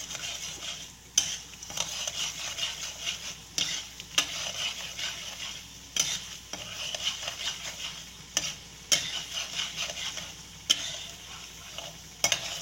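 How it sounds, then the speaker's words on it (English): Mustard seeds spluttering and chana dal frying in hot oil, a continuous close sizzle broken every second or two by sharp popping bursts and the scrape of stirring, with no voices. "The mustard is about to splutter. Now add chana dal, about 1 spoon of chana dal."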